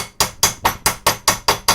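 Eight sharp hammer blows tap a heatsink down onto an electronics board over MOSFETs, coming close, loud and evenly spaced about a quarter second apart with no voices.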